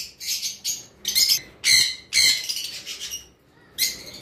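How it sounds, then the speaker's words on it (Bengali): A pair of blue Fischer's lovebirds gives bursts of shrill, high chattering calls in several close, loud clusters separated by short pauses, with no talking. "এখানে এক জোড়া ব্লু ফিশার আছে, দেখতে পারতেছেন।"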